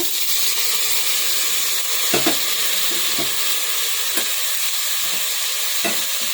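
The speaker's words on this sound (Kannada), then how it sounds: "ಇದೊಂದು 5 ನಿಮಿಷ ಹೀಗೆ ನಾವು ರೋಸ್ಟ್ ಮಾಡ್ಕೊಳ್ಳೋಣ" Brinjal and black-eyed peas roast in a hot pan with a steady, dense sizzle, broken by a few brief scrapes and stirs of a spoon at irregular moments, close and fairly loud with no voices.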